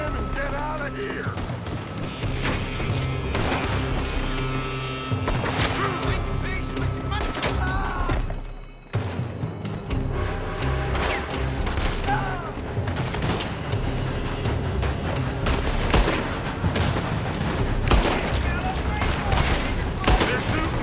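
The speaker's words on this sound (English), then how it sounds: "They're shooting from that building!" Sustained gunfire pours from a building during a Red Dead Redemption shootout while rescuing horses, dense overlapping shots and booming impacts nearly continuous for twenty seconds, with a brief lull midway before the barrage resumes.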